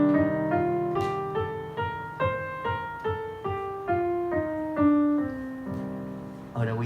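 A minor triad in the Dorian mode is played on a keyboard-like instrument as a sequence of evenly paced single notes, about a dozen stepping in a moving line, clear and close with no talking.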